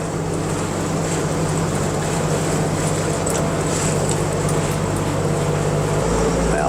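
Boat engine running at very low RPM, a steady low droning rumble with constant water and hull noise, close and continuous, with a slight shift in engine tone near the end.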